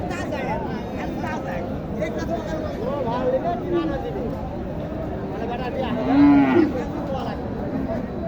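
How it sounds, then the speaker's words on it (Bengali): A cow moos among the cattle at a busy livestock market in Mathajihat, Naogaon, where sacrificial bulls are sold. The low, drawn-out call rises clearly near the end over constant crowd chatter and nearby voices. "ভালো মানের একটি গরু"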